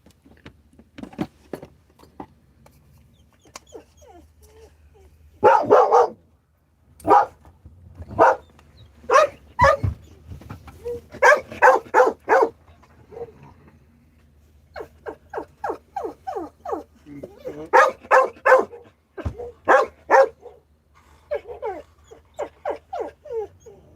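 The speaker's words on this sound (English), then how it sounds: "gotta watch them dogs." Dogs bark in repeated bursts and rapid volleys, loud and close, with short pauses between barking spells and no talk over them.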